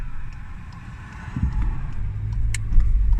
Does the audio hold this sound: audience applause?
no